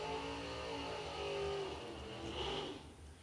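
A Ford Ranger drag racing truck revs and launches at a drag strip, its engine note rising in a mid-distance roar before fading, with no talking.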